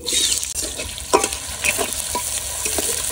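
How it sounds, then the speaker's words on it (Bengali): Chopped onion, garlic and green chili fry in hot oil in a wok, giving a loud, steady sizzle broken by several scraping stirs of a spatula, close up with no talk. "পেঁয়াজ রসুন আমি একটু হালকা ভাজা দিয়ে নিছি"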